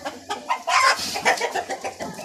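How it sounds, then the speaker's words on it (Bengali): Several Brahma roosters cluck and call close by on a fancy poultry farm in a busy, overlapping run of short squawks and throaty notes. "শুধু মোরগ রেখেছি এখানে আমার।"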